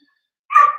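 A single short dog bark, close and fairly loud, breaking in after a moment of silence.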